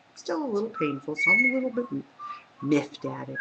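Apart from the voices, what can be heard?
pet bird whistling in the background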